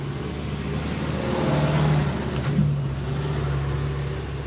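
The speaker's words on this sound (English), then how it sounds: "Let me let this truck go by." A truck passes by on a road, its low engine rumble swelling to a peak around the middle and then easing off, steady and fairly close with no talking over it.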